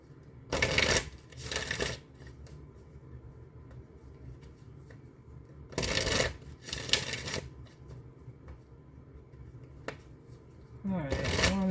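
A deck of tarot cards is shuffled in short riffling bursts, two quick rounds near the start, two more around the middle and one at the end, close and crisp, with a voice speaking softly between them.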